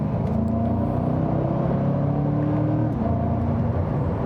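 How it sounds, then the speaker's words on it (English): Inside the cabin of a Chevrolet C8 Corvette, the engine gives a steady droning hum with sustained tonal notes that shift slightly in pitch as it runs, with no voices over it. "The oddest engine note since the 4-cylinder Boxster."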